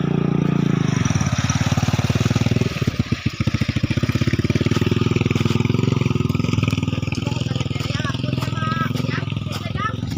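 A motorcycle runs close by on a rural farm path, its engine droning loud and steady, then revving with a rapid rattling pulse before settling into a continuous hum, while people talk over it.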